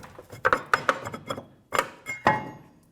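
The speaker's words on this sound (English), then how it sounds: "Just try and pull the rotor forward evenly." A brake rotor worked off the rear hub of a 2007-2013 Acura MDX, giving a cluster of close, sharp metallic clinks and knocks, a short pause, then a few more ringing taps.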